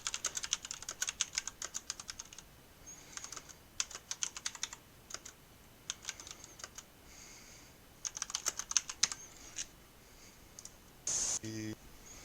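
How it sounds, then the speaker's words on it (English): Typing on a computer keyboard, with bursts of quick key clicks separated by short pauses, close and clear, ending with a firmer run of keystrokes. "I'll just type in a random sentence."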